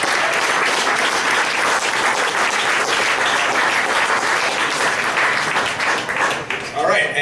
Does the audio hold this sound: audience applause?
yes